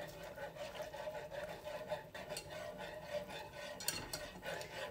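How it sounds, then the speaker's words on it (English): A whisk and spoon scrape and stir through Alfredo sauce in a pan, with soft, continuous rubbing and faint clinks, fairly quiet. "You have to keep stirring."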